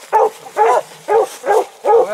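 A hunting pup on a raccoon hunt gives five evenly spaced, high yelping barks close by, each one short and sharp with brief pauses between them.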